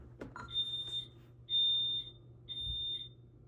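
Three electronic carbon monoxide alarm beeps, each a high sustained tone about half a second long, spaced evenly and fairly loud, with a brief clatter at the start.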